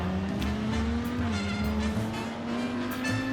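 Race cars at a race start in Assetto Corsa Competizione, including an Audi heading into turn 1, with a continuous engine drone rising in pitch, tire noise and cars passing close by.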